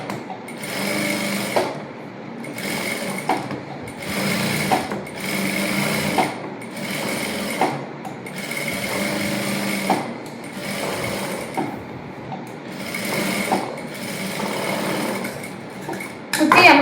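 A sewing machine stitches all the way around a lined princess-cut blouse, sounding as a loud, close series of rhythmic stitching bursts with short breaks between them, unaccompanied by talk.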